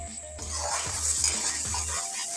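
Brain masala is stir-fried over a high flame, giving a dense, hissing sizzle with quick scraping stirs against the pan throughout, close and fairly loud, without speech.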